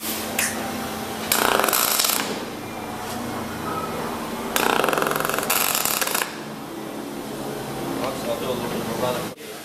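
A pulsed MIG brazing welder at work, giving a harsh, uneven crackling buzz in several bursts of a second or two each, fairly close, with a voice talking in between.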